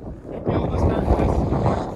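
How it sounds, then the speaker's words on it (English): Outdoors beside an ATV and a 2020 Ford F150, steady wind buffets the microphone with a low rumbling roar across the whole stretch, with people talking faintly under it. "Ooh, it's getting windy."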